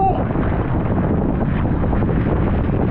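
Strong wind roars across the microphone out at sea during a windsurfing session, a loud, steady rushing gust with no break and no voices.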